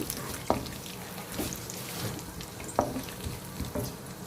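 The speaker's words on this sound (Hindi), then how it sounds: "इसको हम कड़कड़ा लेते हैं, अच्छी तरह से भून लेंगे इसमें" Whole spices crackle in hot oil for a chana masala, a steady close sizzle broken by several sharp pops and stirring clicks, moderately quiet with no talking.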